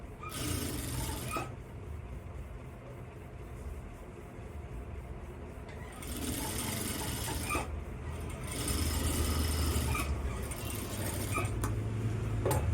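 A sewing machine stitches piping onto a work blouse, running as a continuous whirring hum with short pauses and small mechanical clicks, fairly faint and close.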